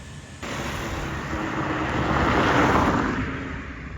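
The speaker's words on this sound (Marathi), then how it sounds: "इकडे विमान चाललंय." A broad roaring drone of a passing airplane swells steadily, peaking near the end, with a constant low rumble underneath.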